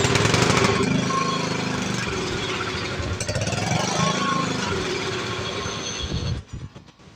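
An old Wisconsin engine on an abandoned brush mower runs with a loud, close, rough mechanical clatter, holding steady for several seconds before sputtering and dying out near the end.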